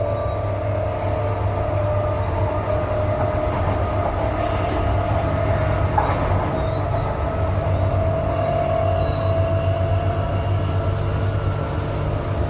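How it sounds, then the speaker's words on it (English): A Transperth A-series electric passenger train rumbles past steadily with a low, continuous drone and faint rail clatter, loud and close throughout. "There's the other direction train."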